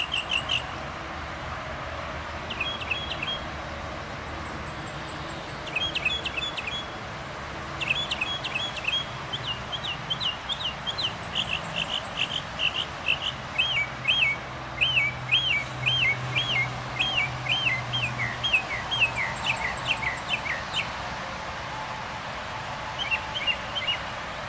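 A mockingbird sings outdoors in a wetland preserve, running through rapid chirps, trills and whistled phrases that mimic other birds, repeated in bursts over steady background noise.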